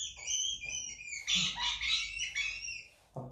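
A high, harsh penguin call with squawking, braying bursts repeated several times, close and fairly loud, with no talking.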